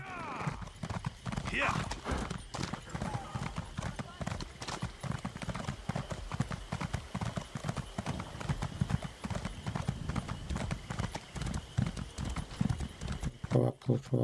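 Rhythmic clip-clop of horse hooves trotting steadily throughout in The Elder Scrolls Online, with someone talking over it and a brief whinny near the start.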